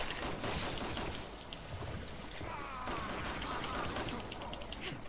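Rapid bursts of gunfire from Resident Evil 6 gameplay, dense and continuous across the whole stretch with scattered impacts over a loud noisy bed.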